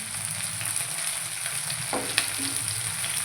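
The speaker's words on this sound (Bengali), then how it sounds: "ফাটছে মাছগুলো, ওই জন্য আমি চাপা দিয়ে ভাজছি।" Fish fry in oil in a covered pan, giving a steady soft sizzle with a few small pops and light clinks, fairly close, with no voices.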